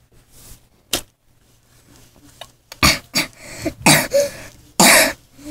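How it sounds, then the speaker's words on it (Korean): Several sharp coughs burst out close by from someone with a cold, a single one early, then a cluster of rough, throaty coughs in quick succession with quiet gaps. "기침을 좀 하거든요"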